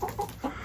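Laying hens on a farm give a few short, close clucks in quick succession, with soft rustling between calls.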